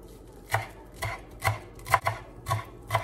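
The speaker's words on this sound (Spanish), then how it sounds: "Voy a estar picando las ramitas de cilantro." Steady, evenly spaced knife chops on a cutting board, about seven soft thuds close up, cutting through cilantro sprigs.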